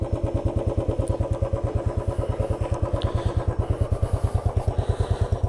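A Royal Enfield motorcycle engine idles steadily with a fast, even thumping pulse and a rattly mechanical vibration, close and continuous throughout.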